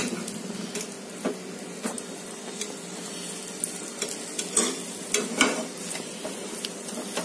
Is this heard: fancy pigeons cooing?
no